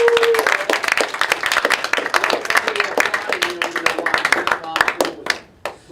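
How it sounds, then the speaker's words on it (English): Audience applause for a Sioux Falls Teacher of the Year honoree, close, crisp hand claps from a nearby group with a voice speaking underneath, tapering off at the end. "How about a big round of applause for our very own Miss Thomason?"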